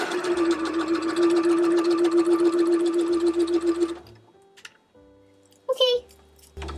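Sewing machine shirring polished (non-rayon, non-voile) fabric, a steady fast mechanical whir close up for about four seconds, then stopping; a brief voice and faint clicks follow.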